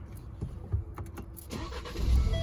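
A 2021 Ford Bronco Badlands with a manual clutch cranks over with a few clicks and whirs, then its engine catches and settles into a low rumbling idle.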